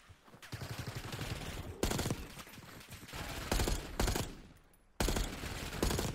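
Gunfire in the Call of Duty Black Ops 6 campaign: repeated bursts of rapid automatic fire, loud and close, separated by short pauses.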